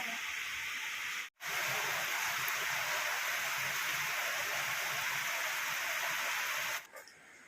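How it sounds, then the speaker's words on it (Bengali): Heavy rain falling outside a home, a dense steady roar of rainfall with a brief dropout near the start, continuous and fairly loud with no talking. "বাইরের ওই দিকটা দেখে নাও প্রচন্ড পরিমাণে জোরে বৃষ্টি এসছে"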